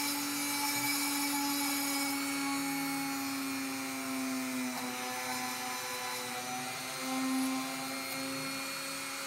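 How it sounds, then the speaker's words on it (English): A steady high-pitched Dremel rotary tool whine drilling continuously through a chip on a circuit board, with a sustained tone that dips briefly mid-way and again near the end. "Just drill through the chip,"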